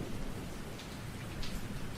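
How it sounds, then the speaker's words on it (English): Rain falling steadily as a sound effect in a film-noir style radio drama, a dense continuous hiss of drops with low rumble beneath, fairly quiet and unbroken. "Outside, it was raining."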